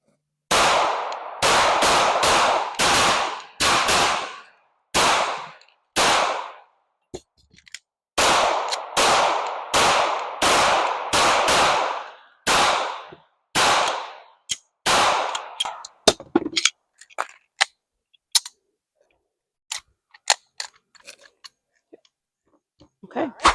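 Pistol shots ring out at competitive shooting practice in rapid strings of sharp, loud cracks, a few pauses between bursts, then sparser single shots and clatter toward the end.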